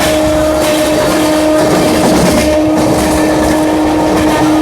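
The Patna–New Delhi Amrit Bharat Express runs through Prayagraj Junction at about 70–80 km/h, filling the scene with a loud, steady rumble and rail roar plus a sustained tonal drone, heard close without talk.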